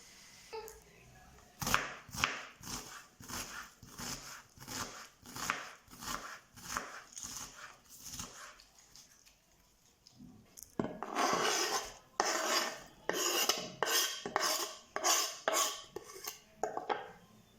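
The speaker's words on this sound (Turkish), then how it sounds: "Yarım demet maydanoz, bir tane yemeklik soğanı ince ince doğruyoruz" A knife finely chops half a bunch of parsley and an onion on a board, tapping in a steady rhythm of close, crisp strikes that grow quicker and denser toward the end.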